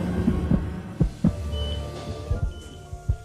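A heartbeat, low thumping beats in an irregular series of doubled pulses over a steady background hum, moderately loud with no voices.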